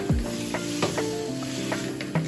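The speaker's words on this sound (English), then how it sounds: "drag this damn meat all through the bottom of this damn pan" Seasoned beef for a pot roast is dragged across the bottom of a hot pan, steady close sizzling with scraping stirs and a few clacks, no one speaking.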